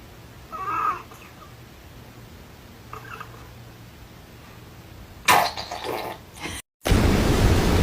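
Cat meowing in a couple of short, fairly faint cries over a steady hum, followed by a louder burst of noise and a sudden cut.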